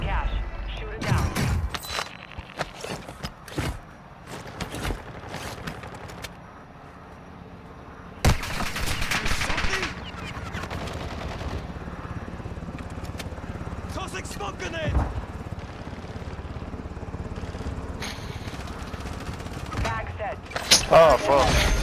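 Helicopter gunfire in Warzone 2 Plunder mode on PS5, with bursts of shots and explosive impacts scattered through busy game action, while players talk over it.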